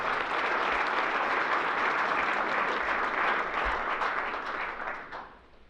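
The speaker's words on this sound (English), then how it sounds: "Let's give them a round of applause." Sustained audience applause at a college football awards presentation, dense and steady clapping filling the room before tapering off toward the end.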